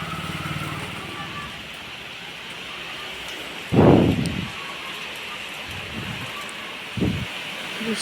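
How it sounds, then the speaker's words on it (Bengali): Heavy rain pours steadily through a thunderstorm, a constant hiss broken by a loud rumble of thunder near the middle and a shorter rumble later, with no talk. "এমনি দেখলেই বোঝা যাচ্ছে যে কত জোরে বৃষ্টি হচ্ছে, ঝড় বৃষ্টি, বাজ পড়ছে মাঝে মাঝে"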